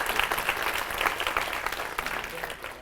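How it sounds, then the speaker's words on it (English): Moderately faint audience clapping rises and thins out over a few seconds, many hands patting irregularly at a distance, fading toward the end. "Clap for that."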